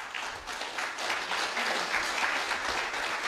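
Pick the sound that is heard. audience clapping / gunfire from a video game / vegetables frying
audience clapping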